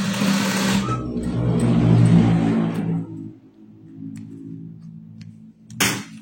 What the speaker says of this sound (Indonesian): Di akhir kita kunci jahitan.